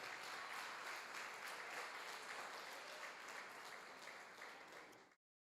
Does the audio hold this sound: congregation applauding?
yes